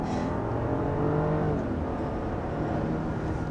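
A 2023 Audi Q7 SUV engine revving and pulling hard under acceleration, a continuous loud rumble heard from inside the vehicle, rising then holding steady.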